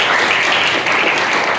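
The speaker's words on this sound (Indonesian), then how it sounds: "Tepuk tangan." An audience at a film talk event in Bandung applauds in a dense, continuous wash of clapping, loud and sustained throughout without pause.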